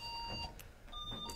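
Motion-detecting alarm in a narrow corridor gives a few short electronic beeps, with steady tones and brief bursts standing out over a quiet room hum.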